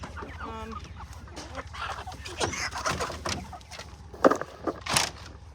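Chickens cluck steadily in a farm setting, a batch of about 175 birds due for the processor, with repeated close calls and a few louder squawks over a constant low hum.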